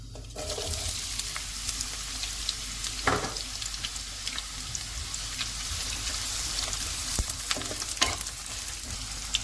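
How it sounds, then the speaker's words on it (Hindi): Steady, close sizzling of onions frying in hot oil, with a few soft stirring scrapes and clicks over the constant crackle. "ऑयल जब गर्म हो जाएगा तो इसमें प्याज डाल रही हूँ मैं"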